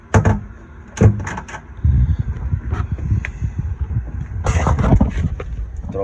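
A lid dropped onto the engine compartment of a boat swapped to a Cummins diesel with an Arneson surface drive, giving a few sharp knocks and thuds amid rustling handling noise and low wind-like rumble, close to the microphone.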